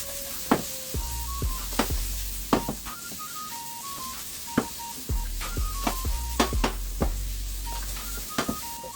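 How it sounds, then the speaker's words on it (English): Food sautés in a pan with a soft, steady sizzle, broken by sharp, close clicks and knocks of a utensil stirring and tapping the pan; a few faint tonal beeps sound in the background. "Saute that down just a little bit."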